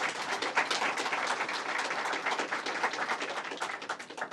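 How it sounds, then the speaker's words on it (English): Audience at a governor's education announcement applauding bill sponsors, a fairly faint, even patter of many hands clapping, heard alone without speech. "Let's give them a round of applause."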